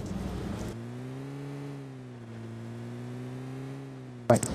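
A vehicle engine drones steadily in a mobile battle royale video game, a low even hum with slight pitch wavering for several seconds between brief bursts of other game noise.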